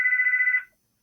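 A mobile phone rings with a single sustained electronic tone, close and clear, lasting under a second before cutting off into silence.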